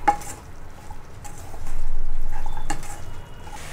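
Chopped tomatoes stirred into a broad bean curry in a pan, with soft intermittent scraping and clinks of a spoon over a faint sizzle, close by and without speech.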